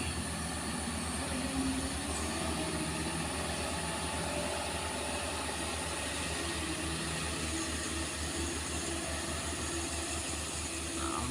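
A Colt diesel truck engine under throttle climbing the steep Gerabuan hill, producing a continuous low, laboring drone that holds steady and fairly distant throughout.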